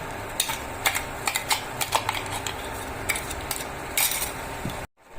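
Chicken with onion-garlic paste and spices frying in ghee over a slow gas flame, a soft sizzle under repeated scraping and stirring clinks of a spoon against the pan.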